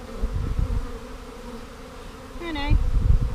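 A honeybee swarm buzzes steadily throughout, a dense close drone that shifts pitch partway through, with a brief voice-like tone near the end.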